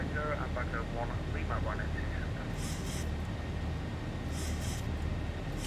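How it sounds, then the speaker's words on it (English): Jet engines of a Zibo Boeing 737-800 in the X-Plane 11 flight simulator, a constant droning roar with a voice briefly over it and short hissing bursts. "So there's the aeroplane accelerating."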